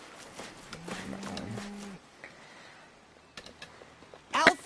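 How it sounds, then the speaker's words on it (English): A cow in Tales of Arise gives one drawn-out moo in the first two seconds, followed by quieter ambient game noise and a brief burst of sound at the end. "It's a cow."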